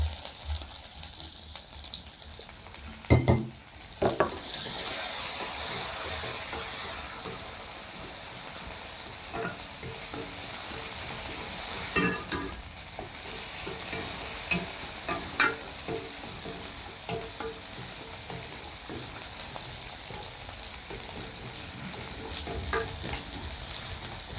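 Mustard seeds, cumin and small shallots frying in oil in a pan for a green gram dish, a steady close sizzle with a few sharp pops and clatters of stirring, no voices.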